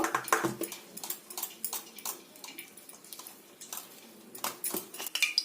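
Palm fritter batter is beaten hard in a bowl, giving a run of quick, uneven clinks and scrapes from the utensil against the sides, close up and fairly light, with no talking.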